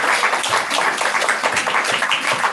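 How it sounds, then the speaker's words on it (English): Audience applause at a ComedySportz improv comedy show in Portland, a dense steady wash of many hands clapping that fills the whole stretch at an even level, with no voices over it. "Give them a little round of applause"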